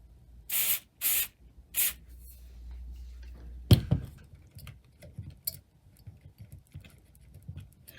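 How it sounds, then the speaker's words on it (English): Three short, loud hissing bursts of contact cleaner sprayed onto a micro switch inside a Sanyo M7770K boombox, followed by a sharp click and a run of faint ticking and tapping from the switch being worked. "Just get my contact cleaner ready."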